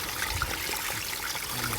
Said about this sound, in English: That's the power flush.